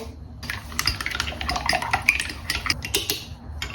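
Three cracked eggs whisked in a bowl for egg fried rice, a rapid, continuous clicking and tapping of utensil against the bowl, close and steady for several seconds.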